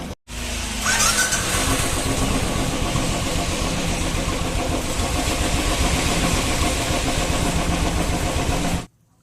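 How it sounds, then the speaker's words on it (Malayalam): A Royal Enfield Bullet motorcycle engine, just set for slow running, starts up at once. It settles into a loud, close, steady idle thump that continues for several seconds before being cut off abruptly. "അപ്പോൾ നമുക്കൊന്ന് ഓഫ് ചെയ്തിട്ട് ഒന്നും കൂടെ സ്റ്റാർട്ട് ചെയ്ത് നോക്കാം."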